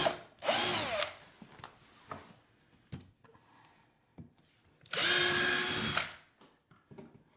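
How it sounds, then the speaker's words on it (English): Power drill driving a screw through a wooden board into a stud for a board and batten accent wall, two loud close bursts of whirring with quieter clicks and handling noises between them. "The reason we drill a hole in the board is so the screw doesn't bind on it and it pulls directly into the stud."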